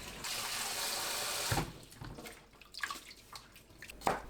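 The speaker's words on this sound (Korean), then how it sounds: "찬물에 헹굽니다." Cold tap water runs steadily over blanched broccoli in a kitchen sink, a close, even rush. It stops after about a second and a half, followed by soft splashes and handling noises.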